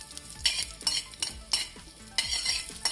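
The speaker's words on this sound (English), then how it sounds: "Let it roast properly and let them splutter." Cumin seeds and curry leaves splutter in hot oil in a pan, sharp crackling pops in quick irregular bursts, close and fairly soft, with no voices.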